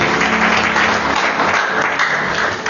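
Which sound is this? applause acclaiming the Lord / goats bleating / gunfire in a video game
applause acclaiming the Lord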